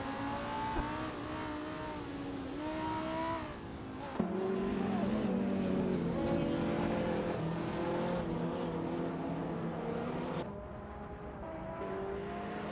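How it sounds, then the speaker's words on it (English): AI-driven supercars race around Road Atlanta in a racing game, with continuous loud engine roar and shifting revs from several cars, dense and unbroken throughout. "watching these AI-controlled cars tear up the track"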